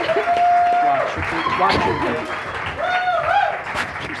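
Audience applause at a live episode of the fantasy show Enter the Hex, a steady, close wash of clapping running the whole time under loud, overlapping voices.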